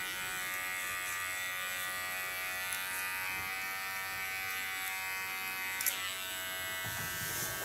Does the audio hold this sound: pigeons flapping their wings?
no